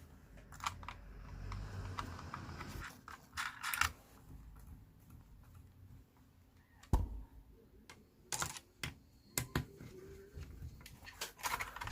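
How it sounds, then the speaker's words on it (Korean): Small metal bolts being tightened onto an Enermax liquid CPU cooler mount during a PC build, with scattered sharp clicks, taps and a brief louder knock over quiet room noise. "그 상태에서 이제 볼트를 조여주면 되겠습니다."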